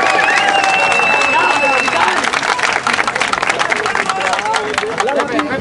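A crowd at a rap battle final in Pichilemu claps and cheers for the battler Joker, loud and dense, with shouting voices and babble mixed into the applause.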